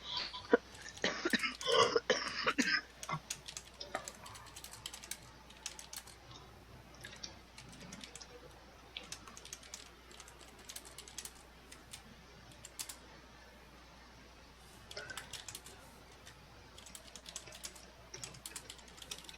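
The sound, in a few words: typing on a computer keyboard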